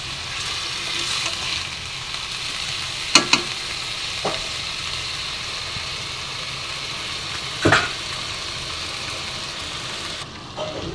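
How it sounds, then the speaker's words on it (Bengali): Vegetables frying in a pan for a vegetarian bottle-gourd-greens dish, a steady close sizzle with a few sharp clinks of a spatula stirring and scraping against the pan, no talking. "প্রায় সবজিগুলো ভাজা হয়ে গেছে"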